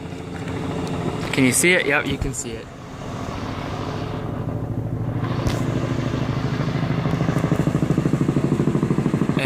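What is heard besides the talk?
helicopter flying low overhead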